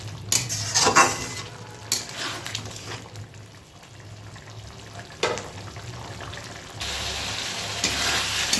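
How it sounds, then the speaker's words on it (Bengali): Spice paste and potatoes sauté in a pan with a close, continuous sizzle broken by spatula scrapes and clanks against the metal, the frying swelling louder near the end, without speech. "মশলাটা কষে নেব ভালো করে"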